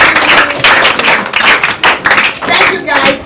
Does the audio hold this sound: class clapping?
yes